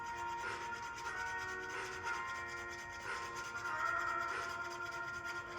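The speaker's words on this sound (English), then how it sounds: "This is a cut 4 half round ring file I'm using" A cut 4 half round ring file rasps against a silver ring in a jewelry workshop, steady close scraping in repeated rhythmic strokes about a second apart, faint and without talk.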